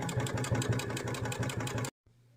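A sewing machine runs steadily while sewing strips of fabric scraps together for a quilt, a close, loud, rhythmic mechanical whir that stops abruptly near the end.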